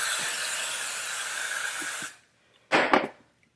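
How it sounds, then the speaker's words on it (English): A steady aerosol glue spray hisses onto hair along a braided part for about two seconds, stops, then gives a second short burst, close and loud with no voices. "using some got-to-be glue spray. And I spray it down the middle of my part"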